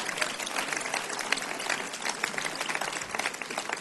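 A church congregation applauds at a sermon, producing a dense, continuous patter of many hands clapping at an even level throughout, fairly near and fairly loud.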